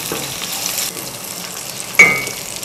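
Dates, almonds, cashews and pistachios frying in a pan for Eid sheer khurma, a steady close sizzle with a faint brief scrape near the end.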